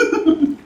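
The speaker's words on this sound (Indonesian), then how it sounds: "Batuk. Menyala tenggorokan." A person coughs a few times in quick succession at a market, short throaty bursts close to the listener with no talk over them.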